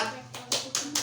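A small group of adults clapping together in a short rhythmic pattern, a few crisp claps in quick succession during a group cheer led by a teacher or facilitator.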